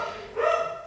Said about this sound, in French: Pardon pour mon chien.